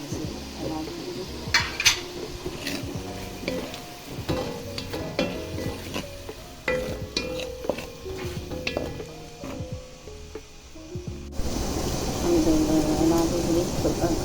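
Sweet peppers sizzle in a pan while a utensil stirs them, with repeated scraping and clinking against the metal, a steady frying hiss beneath, and a brief murmur of voice.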